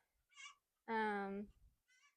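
A garden chicken makes a short faint cluck, then a louder drawn-out squawk, then another faint call, each separated by silence.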